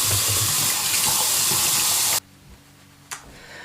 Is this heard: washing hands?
yes